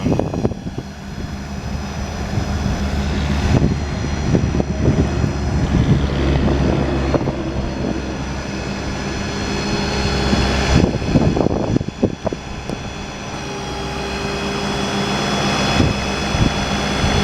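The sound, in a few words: truck-mounted air compressor running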